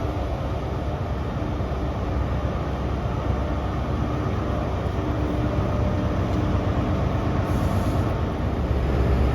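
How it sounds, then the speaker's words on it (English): A ScotRail passenger train pulls out of Stirling toward Glasgow Queen Street with a steady, loud rumble of engine and wheels that runs the whole time without a break. "Departing as 1451 ScotRail service from Aberdeen to Glasgow Queen Street."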